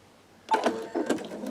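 An embroidery machine stitches an in-the-hoop wallet, starting abruptly after a quiet moment with a run of close, rapid mechanical clatter and uneven pulses that keep going to the end.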